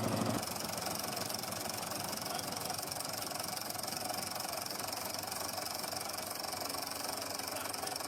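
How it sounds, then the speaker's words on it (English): A British Series 1 antique tractor engine idles steadily with a continuous rumbling, knocking exhaust note that stays loud and close throughout, with no voices. "This robust machine was renowned for its distinctive pop-pop exhaust sound"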